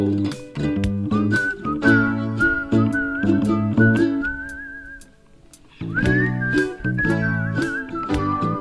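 A bright whistled melody in a song rides over a bouncy backing of drums and instruments, pausing briefly before the tune resumes.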